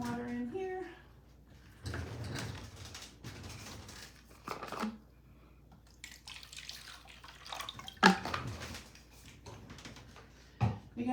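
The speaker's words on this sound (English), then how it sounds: "put some water in here" Water poured into a container at a collage art table, with intermittent splashing and trickling bursts, fairly faint and close, between pauses and small handling sounds.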